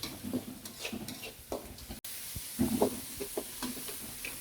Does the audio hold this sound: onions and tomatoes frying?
yes